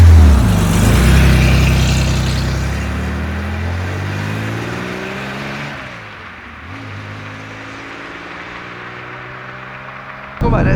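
A 1971 Porsche 911 2.2 T in original condition accelerates while driving, its engine note climbing through a gear, dipping at a shift, then pulling up again, loud and close from inside the car.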